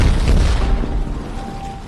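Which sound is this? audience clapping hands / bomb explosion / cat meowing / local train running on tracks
bomb explosion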